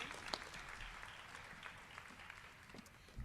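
Audience applause at a school committee meeting honoring students, a steady wash of many hands clapping at moderate distance, sustained and fairly even throughout.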